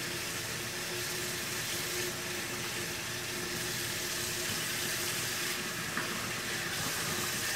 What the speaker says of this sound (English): let me rinse my sponge